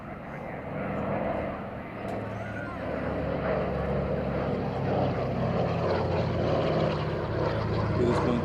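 A C-47 Dakota propeller aircraft flies past at the Midlands air festival, its piston engines making a steady, fairly loud droning rumble that swells slightly as it passes, with an announcer speaking over the display.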